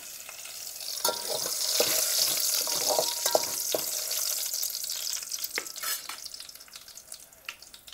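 Garlic and curry leaves frying in hot oil give a steady, close sizzle with scattered sharp crackles and pops, gradually easing toward the end, with no talking.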